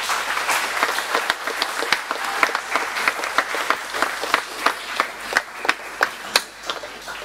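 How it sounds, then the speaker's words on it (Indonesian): A church congregation at a Sunday confirmation Mass claps for the liturgy helpers, a moderate, loosely rhythmic applause with distinct individual claps standing out in a reverberant hall. "Tepuk tangan untuk mereka semua dong."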